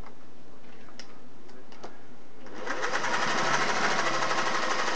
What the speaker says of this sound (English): Gonna sew medium stitch here.